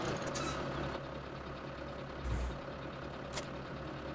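Steady low engine drone of a tractor in the video game Farming Simulator 17, idling and rumbling continuously with a couple of brief hissing bursts over it.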